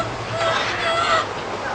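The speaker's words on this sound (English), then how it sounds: "look at all the pretty birds" Pet birds in an indoor aviary give short whistled calls and chirps, moderately close, over a steady background hum with soft talk mixed in.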